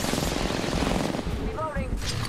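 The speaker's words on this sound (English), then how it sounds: "I'm getting shot at" Rapid gunfire in the Apex Legends battle royale game, dense bursts of automatic shots running throughout at close range, with a brief whistling whine near the end.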